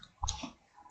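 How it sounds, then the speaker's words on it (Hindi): A single computer mouse click on an Apply button during an online form application, short and close, with nothing else around it. "अप्लाई पर क्लिक करना है।"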